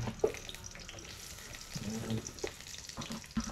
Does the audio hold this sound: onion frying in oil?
yes